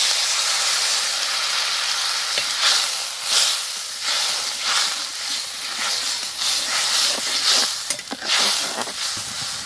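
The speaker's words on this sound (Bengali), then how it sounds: "মশলা ভালো করে হয়ে গেছে এখন জল দিয়ে দেবো" Water poured into frying masala with turmeric hisses and sizzles steadily in the pan, a loud, close, continuous spitting sizzle with small crackling bursts throughout.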